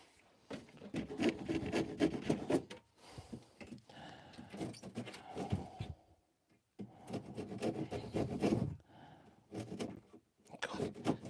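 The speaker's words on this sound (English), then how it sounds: "I hate these disposable saws." Disposable hand saw cutting through wood: rhythmic rasping strokes in several bursts separated by short pauses, close and fairly loud, with no talking.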